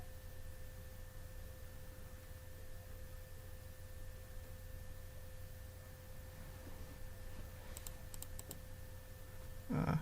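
Computer keyboard typing runs through a quiet room over constant electrical hum, a soft stream of small clicks with a few sharper key taps near the end.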